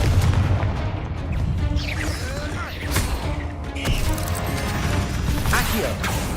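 Confringo blasting spell in Hogwarts Legacy, heard as a loud, dense stretch of booms, crashes and mechanical clatter with sharp impacts around the middle, layered over game music and spoken lines.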